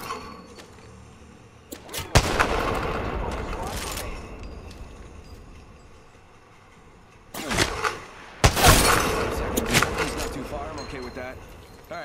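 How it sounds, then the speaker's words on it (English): Battle royale video game gunfire comes as loud bursts of shots early on, then a heavier, longer volley near the end, with quieter game noise in between. "Getting shot at."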